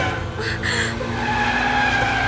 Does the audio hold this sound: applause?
no